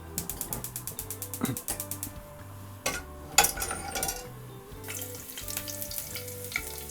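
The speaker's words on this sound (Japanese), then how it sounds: "で今フスフス オイルの中がだいぶ温度上がってきたので" Basil and garlic sizzling in heating olive oil in a pan, a close crackling fizz mixed with rattling, clicking movements and a few louder bursts, with no talk.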